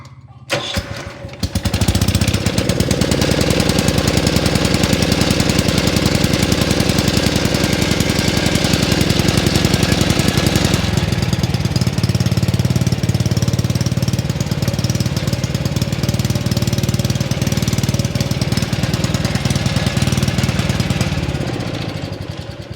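A Wheel Horse 552 garden tractor's small engine runs steadily and loud up close, a harsh continuous rattling drone that holds for about twenty seconds before cutting off.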